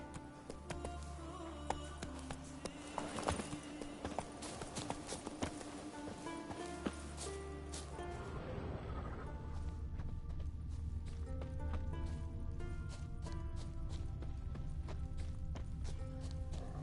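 Roach, a horse in The Witcher 3, trots with steady rhythmic hoof clip-clops that are clear and close, a brief shift in pace partway, faint game ambience beneath.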